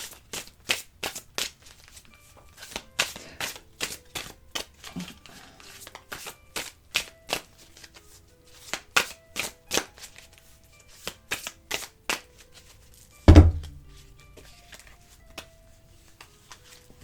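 Tarot cards shuffled and laid down on a table, a long run of sharp, dry flicks and taps in quick bursts, close and crisp, broken by one heavier thud near the end.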